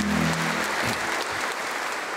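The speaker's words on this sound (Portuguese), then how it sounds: "Uma salva de palmas à palavra." A congregation at a Sunday Mass at a Brazilian sanctuary claps together, a short burst of applause in a reverberant hall that follows the tail of a sung note.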